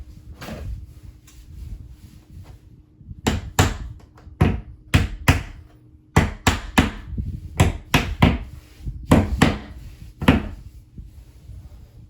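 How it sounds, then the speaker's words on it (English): A series of sharp, loud hammer blows knock a wire shelf into a wall, ringing out in irregular bursts, some in quick pairs, with brief pauses between them. "I'm going to give it a little assistance with a hammer."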